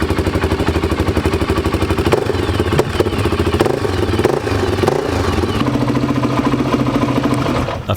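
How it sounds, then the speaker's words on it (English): A Honda XR400 dirt bike engine warming up at idle, a steady close mechanical clatter and throb that runs evenly throughout with no pauses or revving. "First we need to warm up the bike a little."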